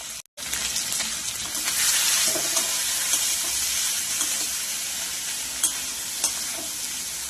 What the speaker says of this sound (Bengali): চিংড়ি মাছটা ধুয়ে নুন মাখিয়ে রাখা আছে, এটাকেও এবার আমরা হালকা করে ভেজে নেব।